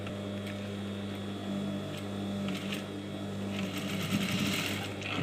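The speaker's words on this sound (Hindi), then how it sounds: "एक बार मैं इसको टच करने के लिए यहाँ पे हल्की सी सिलाई करूँगा" A sewing machine runs a light tacking stitch on a long designer kurti, a steady close mechanical whir with rapid needle ticking that holds evenly throughout.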